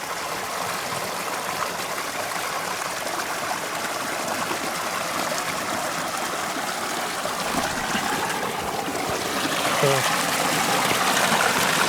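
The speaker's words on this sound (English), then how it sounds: "Water's still running pretty well." Steady rushing of a stream flowing close by in the Blue Mountains, Australia, a continuous broadband wash of water that swells slightly louder near the end.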